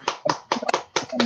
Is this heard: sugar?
no